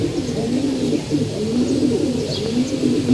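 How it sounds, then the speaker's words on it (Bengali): Pigeons in a loft give low, throaty, rhythmic coos close at hand, repeating in soft rolling waves with no voices over them. "একটা বুটা অন্যরকম বাবু কবুতর।"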